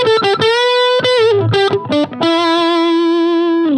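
Electric guitar played through a TC Electronic Mojo Mojo overdrive pedal, sounding a short solo-style line of sustained, gritty overdriven notes with bends and a long held final note, loud and close with no talking.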